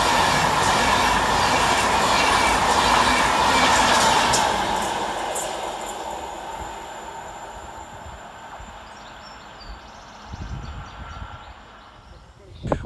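An LNER electric locomotive, 91109, hauls a passenger train through Outwood station, a loud roar and rattle of wheels that fades steadily as the train recedes, with a faint thump near the end.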